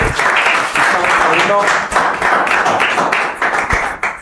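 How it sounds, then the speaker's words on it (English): A round of applause from an audience at a public gathering rolls on steadily for about four seconds, dense and loud, with a voice briefly rising over the clapping. "Round of applause for"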